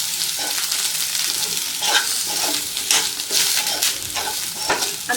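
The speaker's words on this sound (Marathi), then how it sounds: "एक मिनिट आता हे व्यवस्थित परतवून घ्यायचं आहे" Grated dry coconut is stirred and sautéed in a pan for dhaba-style shev bhaji, giving a close, steady sizzle with repeated scraping strokes of the spoon and no voices.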